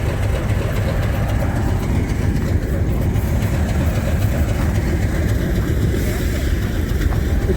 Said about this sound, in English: What a beautiful diesel locomotive Class 50 is.